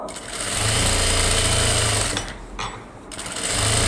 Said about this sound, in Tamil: அடுத்தது நான் இந்த பக்கம் போடுறேன் டபுள் தையல் இருக்கும்